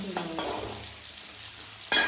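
Onions frying in a pan with dry red chillies for a home dinner, with a steady sizzle and a few scraping stirs, close up, one louder scrape at the end.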